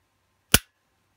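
A single sharp, dry click, close and isolated in silence, from the trigger resetting on an M&P Shield 9mm pistol.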